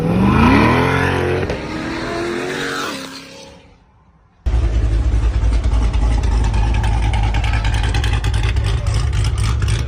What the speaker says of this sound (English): nothing's quite like having an NA V8 right behind you